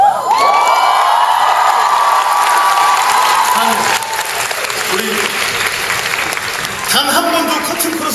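Loud, sustained applause and cheering with whoops from a theater audience at the curtain call of the final performance of the musical Zorro, rising slightly again near the end.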